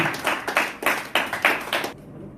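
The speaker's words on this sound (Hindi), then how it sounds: "एक बार जोरदार तालियों से हम सब स्वागत करें हमारे नए एसडीएम साहब का, आदरणीय श्री एस.के. आनंद जी।" A short burst of clapping from a small crowd, with several loud individual claps in an uneven rhythm, fading out at the end.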